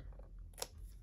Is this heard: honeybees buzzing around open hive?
no